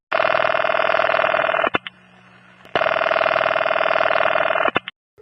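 An old-style telephone bell rings loudly in a staged radio drama, two long continuous rings separated by a brief pause, alone with no voices.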